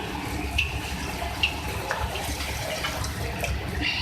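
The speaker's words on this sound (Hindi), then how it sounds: "इसके अंदर बिल्कुल थोड़ा सा पानी ऐड करेंगे" A small splash of water going into chicken keema karahi in a pan, a brief soft pour and trickle heard up close with no voices.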